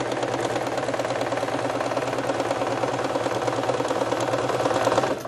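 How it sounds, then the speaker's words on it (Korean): A sewing machine stitches a knee blanket in one steady, fast mechanical whir. The run is close and even, with no pause from start to finish. "그래서 이렇게 잡으시고 우선 박음질을 하겠습니다."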